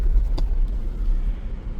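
A Mahindra Scorpio N rolls over a rough, potholed road, giving a heavy low rumble of tyres and suspension with a steady engine drone heard from inside the cabin and no talk.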